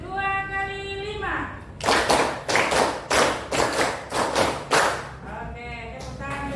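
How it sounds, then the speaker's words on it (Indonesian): A classroom of children claps along in a patterned clapping game, with about eight loud bursts of massed hand claps in a steady rhythm, with a voice speaking before and after. "Oke, tepuk tangan"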